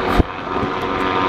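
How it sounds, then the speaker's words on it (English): A helicopter flies overhead near the Black Diamond Mines, its steady rotor and engine drone loud and continuous, with a brief thump at the start and no voices. "It's a helicopter, guys."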